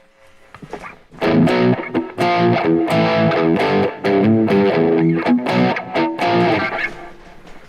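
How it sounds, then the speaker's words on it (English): Distorted electric guitar plays loud chords and riffs through an amplifier, with rhythmic strummed attacks sustained over several seconds after a quiet start. "let's listen to some sounds, just so you can hear what I got going with the guitar"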